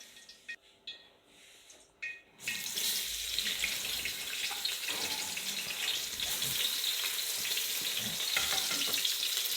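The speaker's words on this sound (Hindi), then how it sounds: "घी लिया मैंने, 2 चम्मच घी लिया और अभी हम इसमें प्याज, अदरक और लहसुन डालेंगे।" Onion, ginger and garlic hit hot ghee in a pan for a Coke chicken dish; after a quiet start, a loud, steady sizzle bursts in and keeps crackling evenly to the end.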